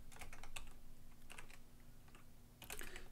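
Rapid keypresses on a computer keyboard at a CP/M machine, arriving in short clustered bursts with brief pauses between, close and fairly quiet.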